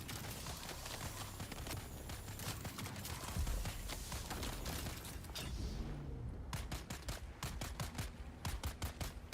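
Gunfire in the video game Dune Awakening: dense rapid bursts of shots over a loud din, then a run of separate sharp cracks in a steady rhythm near the end, no talk.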